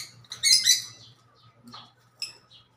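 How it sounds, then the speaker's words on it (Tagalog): Pet lovebirds give a quick burst of bright chirps, then a few shorter, sparser calls follow, close by and alone over a faint low hum. "Ayan na naman ang lovebirds ko."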